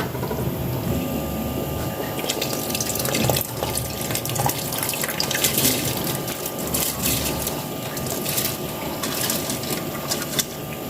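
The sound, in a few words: rice being added to boiling water in a pot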